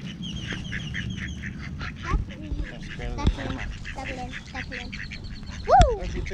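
Ducks quack repeatedly while being fed at the water, loud nasal calls close by with a goose-like honk near the end, mixed with children and an adult talking.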